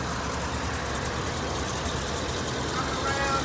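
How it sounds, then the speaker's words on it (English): The V8 Vortec engine of a 2015 Chevy 3500 double cab utility truck idles nearby, a steady low rumble running evenly throughout with someone talking over it. "Beautiful Vortex engine."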